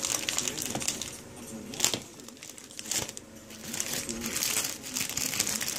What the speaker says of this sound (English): Get this bag cut up here.